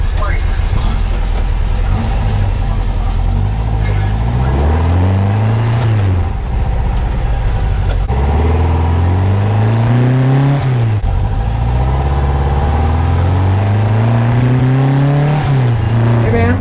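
A 1974 VW Super Beetle with a 2054cc stroker engine and tuned Weber 40 carburetors drives on the road, its air-cooled engine loud and close as it revs through repeated rising gear pulls, with people talking over it.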